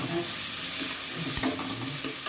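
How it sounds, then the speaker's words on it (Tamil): Onions sautéing with turmeric in a pan for a chicken gravy, a steady close sizzle with faint stirring scrapes, no talk. "வெங்காயம் ரொம்ப வதங்கணும் அவசியம் இல்லை"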